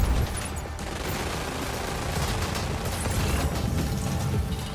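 Stray gunfire crackles in Death Stranding 2, a sustained rattle of rapid automatic shots and bursts mixed with mechanical clatter, dense and fairly loud throughout.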